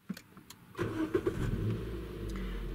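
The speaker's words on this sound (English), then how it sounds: "And we'll start the engine." A Toyota Yaris engine starts: a few clicks, a brief starter crank, then the engine catches and settles into a steady, close idle.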